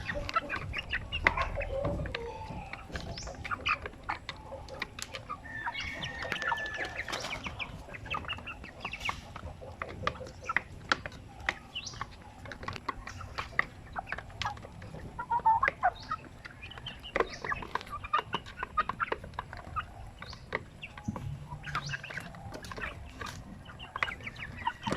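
Chickens, a large fast-growing breed, cluck steadily while feeding, with scattered pecks and rustles close by and a rooster-like call rising now and then over the continuous flock noise.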